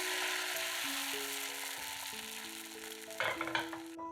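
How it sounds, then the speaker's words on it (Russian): Egg batter pancakes frying in a lightly oiled 24 cm skillet, a soft continuous sizzle under sustained background music tones, with a short burst of louder crackle near the end. "Из приготовленной яичной массы жарим блины."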